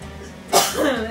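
A single sharp cough bursts out, followed by a brief throaty vocal sound, close and loud.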